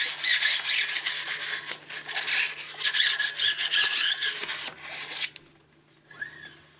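Filing or fine-sanding burrs off the fret ends of a cheap S-style guitar, a close rhythmic rasping in repeated strokes, ending with a few softer rubs.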